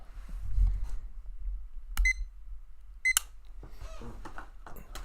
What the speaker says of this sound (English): That's a bread timer in the background.